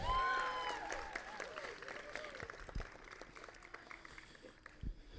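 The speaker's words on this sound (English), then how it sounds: "another round of applause for Patricia and Raymond, please." Wedding guests at a Miami, Florida reception clap in a loose round of applause, loudest at the start and fading, with whistles and chatter mixed in and a few sharp claps near the end.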